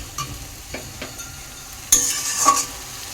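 Chicken with green chillies being stir-fried in a pan, a spatula scraping and stirring with soft sizzling, growing louder and more vigorous toward the end.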